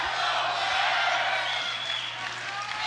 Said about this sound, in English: Hear this crowd chanting